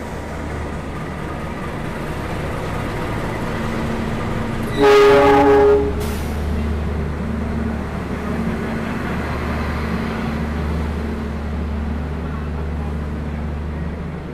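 The Argo Semeru passenger train rumbles steadily close by as it pulls into a station, with one loud, sustained horn blast lasting about a second partway through.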